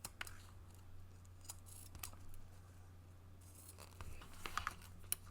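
A few quiet scissor snips trimming zipper tape on a sewn bag, close by over a low steady hum.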